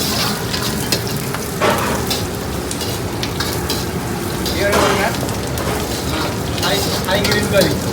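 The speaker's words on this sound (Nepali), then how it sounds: "पहिला मजाले भुट्ने यसलाई राम्रो तरिकाले" Curry paste sizzling and frying in a hot wok for Thai curry with lemongrass, a steady crackling hiss with stirring scrapes, under intermittent talk.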